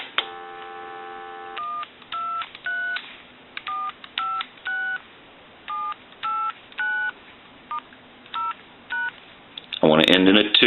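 Western Electric 2500 touch-tone telephone under repair: a steady dial tone breaks off, then a string of short keypad tones follows in quick, evenly spaced presses, clear and close, ending in a brief noisy burst.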